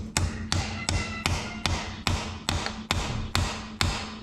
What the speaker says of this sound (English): then you'll just hit them flush with a hammer